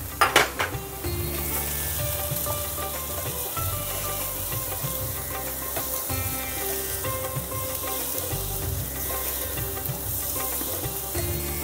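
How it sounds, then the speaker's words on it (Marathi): Tomatoes sauté and sizzle steadily in a hot pan for a Maharashtrian methi masala, with a loud, close hiss and occasional stirring scrapes, opening with a few clatters. "आता हे टोमॅटो परतून घेऊया."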